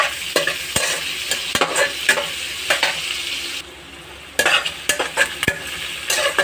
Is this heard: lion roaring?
no